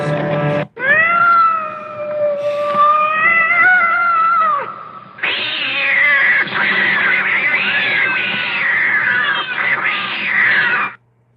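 Cats yowling and caterwauling in a fight, loud and close: drawn-out wavering howls, a brief break, then a harsher, busier stretch of overlapping screeching meows that carries on to the end.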